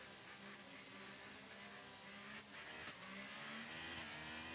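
A Ferrari Formula 1 car engine drones steadily in an F1 racing video game, a constant high-pitched buzzing whine at moderate level with a slight rise toward the end, alone without talk.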